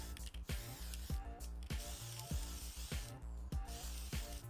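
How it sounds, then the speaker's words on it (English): Tamiya TS13 clear coat spray paint hisses from an aerosol can in repeated short bursts, loud and close, with clicks at the start of each burst. "I'm always sure to use a clear coat spray such as the Tamiya TS13"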